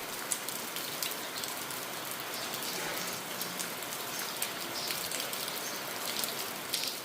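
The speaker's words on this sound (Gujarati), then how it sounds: "અટાણે થોડાક છાંટા આવ્યા" Light rain falls as a soft, steady patter of scattered drops, close by and fairly quiet, with a few sharper drips and no voices.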